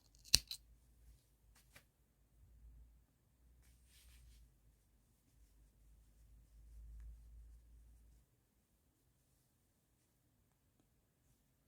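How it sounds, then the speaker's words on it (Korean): Scissors snip through yarn while crocheting a monkey-shaped dish scrubber, a sharp close cut near the start followed by a few faint rustles and soft handling sounds, then quiet. "그런 다음에 실을 한 3cm 정도 남기고 잘라주세요"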